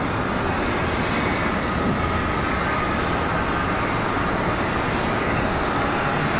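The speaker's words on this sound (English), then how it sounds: "Next arrival is American Airlines 2209 coming in from Santa Ana, an A321 Neo." An American Airlines Airbus A321neo arriving at Charlotte Douglas airport from Santa Ana, heard as a dense, even engine rush and rumble that stays constant and fairly near, with no talking.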